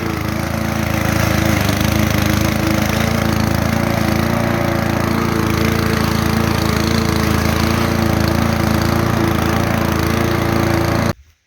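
A homemade motorized lawn mower runs loud and steady throughout, a close, continuous engine drone with rough mechanical clatter, cutting off abruptly at the very end.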